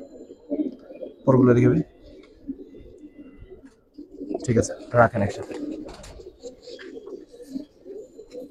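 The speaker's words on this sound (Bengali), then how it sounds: "এটা আমার বাসার বিডার কবুতর" Breeder pigeons coo at a home loft, soft low bubbling calls running under the talk of two men handling the birds, with a louder burst of close cooing partway through.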